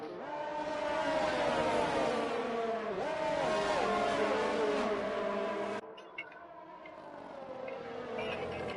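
Race cars lapping the Chinese GP in a sim racing game, with engines droning and whining steadily as they shift pitch through the gears, loud and continuous before dropping away abruptly.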